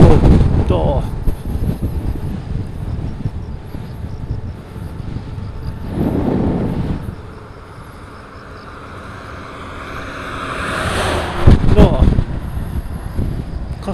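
Gusty wind buffets a cyclist riding along a rural farm road, roaring in broad swells that rise, ease off and surge again, with a strong gust building near the end.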